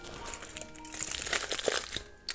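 Wrapping paper crinkles and rustles close up as a breakfast roll is unwrapped, an irregular run of crackling crumples that grows busier in the middle and then trails off.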